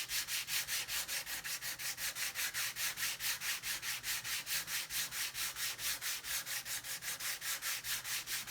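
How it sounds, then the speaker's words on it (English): A 180-grit sanding block rubs back and forth along the flat face of a wooden guitar kit headstock in steady, fast, evenly spaced strokes, close and alone without any talk. "Just use your sanding block on the actual headstock itself."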